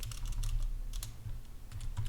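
Keystrokes clatter on a computer keyboard while a video sequence is renamed in editing software, a rapid, close run of clicky taps with brief pauses, heard alone.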